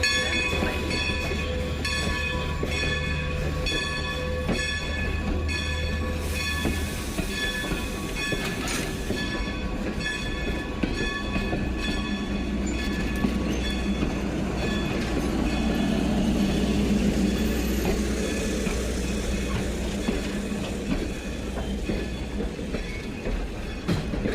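A Strasburg Railroad train rumbles and clatters steadily nearby, with a sustained horn blast early on and a high wheel squeal as it rolls into the station on track 2.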